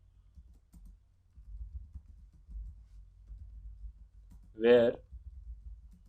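Computer keyboard typing an SQL query, heard as soft scattered keystrokes against a quiet background, with one short spoken word partway through.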